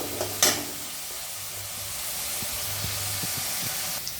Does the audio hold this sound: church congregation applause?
no